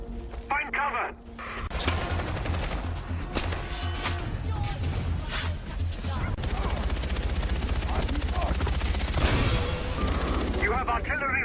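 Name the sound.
artillery and gunfire in the video game Far Cry 4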